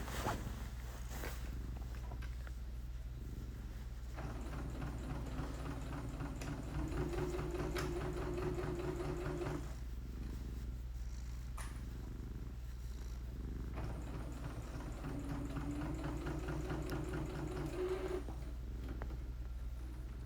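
A sewing machine stitches a quarter-inch seam on a fabric belt flag. Its low, steady motor hum runs for twenty seconds, with two longer whirring stitching runs and small clicks, close and fairly quiet.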